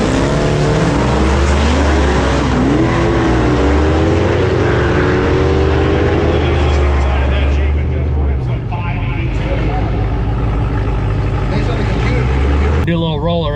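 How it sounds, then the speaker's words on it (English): A 1000-horsepower Jeep Grand Cherokee Trackhawk races a Dodge Challenger Hellcat at a drag strip, loud roaring engines climbing through gears with rising and falling pitch, close and overwhelming, with voices shouting over the noise. "We're racing this Hellcat Challenger."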